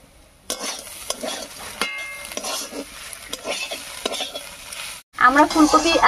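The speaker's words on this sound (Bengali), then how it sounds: "ডিম দিয়ে ফুলকপি ভাজাটা প্রায় হয়েই গেছে" Cauliflower and egg fry stirred in a pan, with a steady sizzle and scraping spatula strokes, then a short pause before a louder burst of frying.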